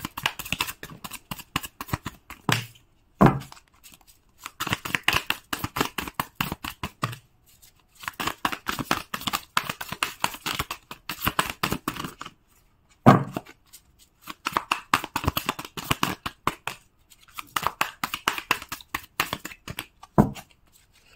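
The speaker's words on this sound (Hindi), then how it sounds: "चलिए और कार्ड्स निकाल लेते हैं" Tarot cards being shuffled and drawn, with bursts of quick riffling and flicking in repeated runs of a few seconds, broken by brief pauses and sharp slaps as the deck is tapped or cards are laid down, close and fairly loud.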